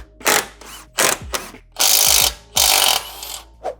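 Ratchet working the strut top bolts on a Genesis G70 during a coilover install, several quick bursts of clicking pawl and spinning ratchet separated by short pauses, close and loud.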